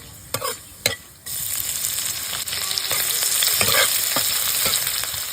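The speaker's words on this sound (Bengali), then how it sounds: "এবার ফোড়নে দেব গোটা জিরে, গোটা ধনে আর কিছু শুকনো লঙ্কা।" Whole cumin seeds, coriander seeds and broken dried red chillies dropped into hot white oil in a kadai, opening with a couple of sharp clicks before a loud, steady crackling sizzle builds and holds, with no talk.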